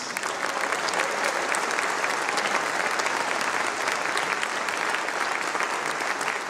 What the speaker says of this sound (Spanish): Se van a aplaudir, señores.